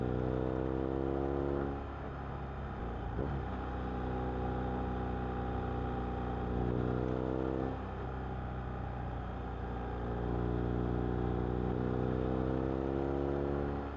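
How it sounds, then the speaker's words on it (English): A BMW R1250R motorcycle with an aftermarket exhaust idles with a deep, bassy exhaust tone, rising in a few throttle blips that swell and fall back, steady and close. "So the good news is I can hear the exhaust."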